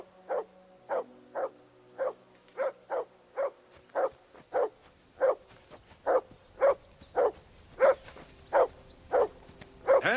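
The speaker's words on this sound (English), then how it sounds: "Whistle at that mutt of yours to stop barking." A dog barks repeatedly in the video game Kingdom Come Deliverance 2, a steady run of about eighteen evenly spaced, fairly loud barks over a low ambient background, with no talking.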